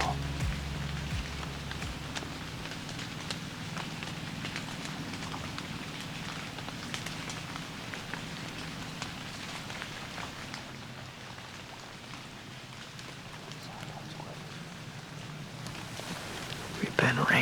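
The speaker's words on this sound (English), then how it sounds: "We've been rained on the minute we got out here" Steady rain patters outdoors during a Michigan bowhunt, a constant soft hiss of drops on leaves and gear throughout, with a faint low rumble beneath and no clear talk.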